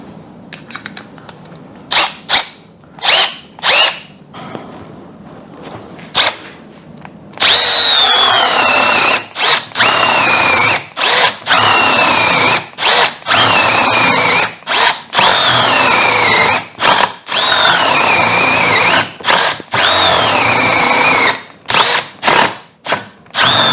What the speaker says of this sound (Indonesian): Untuk tes terakhir kita langsung lompat ke 32 mm. Ini adalah mata bor yang paling besar